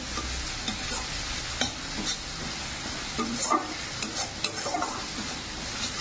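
Frying masala of turmeric and Kashmiri chili powder crackles steadily in a close pan, with frequent scraping strokes and light knocks of a stirring spoon throughout.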